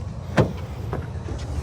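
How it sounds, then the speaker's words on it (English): A Mazda CX-50 Hybrid compact SUV's door shuts with one solid, close thump, followed by a couple of faint lighter clicks and rattles. "let's listen to the sound of the closing door"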